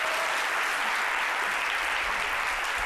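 Steady, dense audience applause fills the whole stretch, loud and close, with no pauses and no talk.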